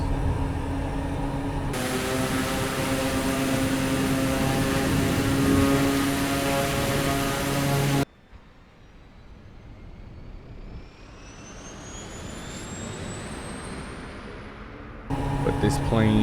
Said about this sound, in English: But this plane has so much power, it just gets off the ground so easily.